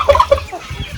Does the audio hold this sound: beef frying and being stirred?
no